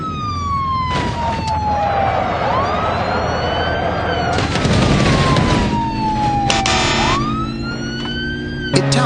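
Japanese police car siren in the video game BeamNG.drive, a loud, slow two-part wail that falls and then sweeps back up, repeating, over rumbling engine and road noise with bursts of crashing impacts.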